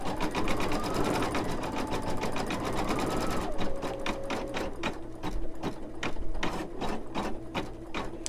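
An embroidery machine stitches a flip-flop thong design on a potholder, its needle chattering in a fast steady rhythm close by, with a brief high whine midway and a clear, loud mechanical pulse throughout.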